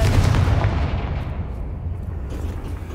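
Confringo fire spell explosions in Hogwarts Legacy, a loud, deep booming burst that rolls into a sustained low rumble and gradually eases off over a few seconds.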